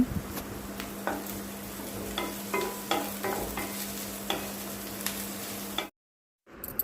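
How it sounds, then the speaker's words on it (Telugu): Ginger garlic paste being stirred into frying onions in a pan, with a soft steady sizzle, repeated scraping strokes of the spoon, and a low hum underneath before the sound cuts out abruptly near the end. "అల్లం వెల్లుల్లి పేస్ట్ వేసినాక కొంచెం కలుపుకోవాలి"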